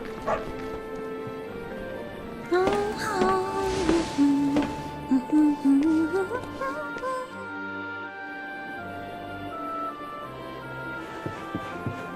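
A dog in the Dragon Quest XI video game gives a few short barks and whimpering yips over the game's music and ambience.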